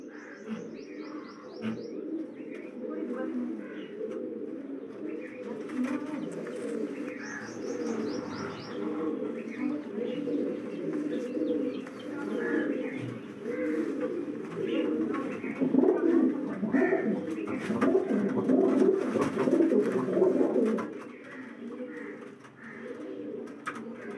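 Pigeons at a low-flyer breeding loft coo steadily in a dense, continuous chorus, with occasional brief chirps above the low murmuring throughout.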